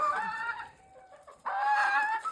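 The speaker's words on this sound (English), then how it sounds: "Got some winter hens looking real good." Hens clucking nearby in two bursts, with a brief quieter pause between the drawn-out, throaty calls.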